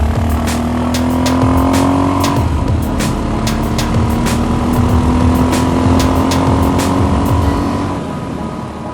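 A dual sport motorcycle engine held at full throttle near 9,000 feet elevation, a loud, close, sustained drone with a steadily rising pitch that eases off at the end.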